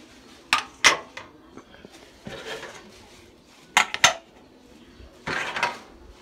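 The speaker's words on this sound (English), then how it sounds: "I'm going to put the burner covers back on." Metal burner covers set back onto a kitchen stove, giving several sharp clanks and clinks in two clusters with quieter scraping and handling noise between them; no talking.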